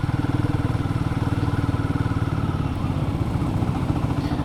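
A Royal Enfield Guerrilla 450 engine while riding near Chikmagalur, a steady, even, throbbing thump at close range, loud and alone without voices.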